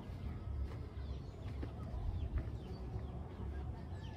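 Chickens and chicks on a farm cluck and peep faintly against a low rumbling background, with scattered short calls throughout and no talk.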